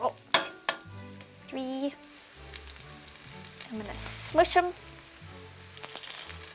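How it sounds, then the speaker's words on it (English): Vegetable-stem pancakes sizzle and crackle steadily in olive oil in a pan, with a person talking briefly over the frying. "Oh, do you hear that? That's the sound of frying."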